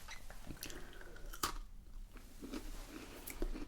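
A Hobnob biscuit is bitten and crunched close to the microphone, with a crisp snap followed by steady, quiet chewing crunches.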